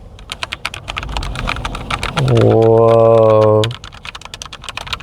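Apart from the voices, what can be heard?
typing on a mechanical computer keyboard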